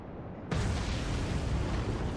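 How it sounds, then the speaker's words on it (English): A ship blowing up after a torpedo hit in a naval war game set in the Battle of the Atlantic: a sudden loud blast at about half a second that swells into a sustained rumbling roar. "kind of like a post-mortem detonation there"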